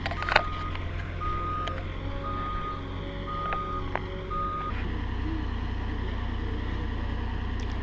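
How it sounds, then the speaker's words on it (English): A forklift unloading wood at a homestead gives a few intermittent reversing beeps over a steady low engine idle, moderately close, with no talking. "So he's forklifting all of our wood up to the work area."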